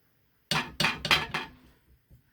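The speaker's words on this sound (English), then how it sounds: "Just trying to get all that off my spoon." Spoon scraped clean of thick hot-process soap batter, watermelon lemonade type, against a pot rim: three or four quick scraping clinks in a row, then a pause and a faint tap, close and fairly loud, no voices.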